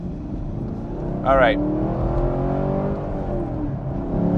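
A Chevrolet Camaro SS 1LE, exhaust set to its loudest mode, idles and rumbles close by, its deep engine drone swelling and holding; someone says a couple of words briefly.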